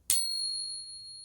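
An 1889 silver crown coin is pinged once, giving a sharp strike followed by a clear, high, bell-like ring that sustains and slowly fades in quiet surroundings.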